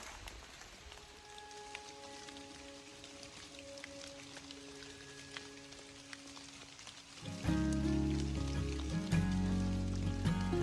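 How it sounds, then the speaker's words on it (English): Steady rain patters on a hiking trail, a soft continuous hiss of drops with scattered louder taps, then a much louder, closer rustle and rumble takes over near the end. "We're back on the trail and it's still raining."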